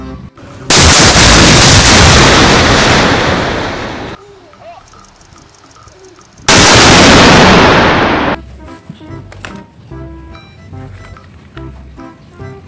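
A toy armored tank fires in two long, loud blasts of rumbling, crackling noise, separated by a stretch of quieter electronic tones.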